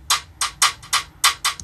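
Straight hi-hat pattern from a UK drill beat made in FL Studio: six crisp, bright ticks evenly spaced in a steady pulse, close and clean with nothing else playing.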